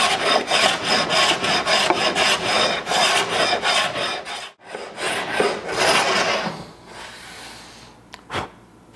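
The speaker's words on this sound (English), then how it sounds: "I'm just gonna use a block plane to flush up this top." A block plane shaves a wooden chest-of-drawers top flush, giving a close, steady series of rasping strokes for about four seconds; after a brief gap, a few softer, lighter passes follow and fade out.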